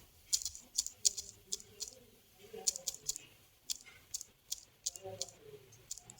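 Light tapping on a mobile phone's on-screen keyboard while entering Urdu text, a quiet, uneven run of soft clicks in short bursts with faint room noise between.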